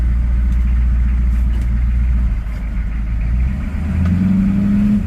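A 1987 GMC R1500 pickup with a 6.2 V8 diesel backs up in reverse, its steady low engine drone holding close and loud before a rising whine builds near the end.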